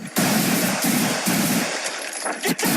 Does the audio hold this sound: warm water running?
no